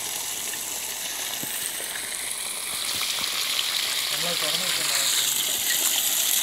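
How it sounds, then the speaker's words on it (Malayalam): An aquaponics external bell siphon pulls water through at full force, a steady broadband gushing rush that swells louder after a few seconds and keeps going, with faint murmuring in the background. "അടച്ച ഉടനെ അത് സക്ക് ചെയ്യാൻ തുടങ്ങിയായിരിക്കുകയാണ്. ഫുൾ ഫോഴ്സിൽ കണ്ടില്ലേ, വെള്ളം വലിച്ചിരിക്കുകയാണ് ഫുൾ ഫോഴ്സിൽ."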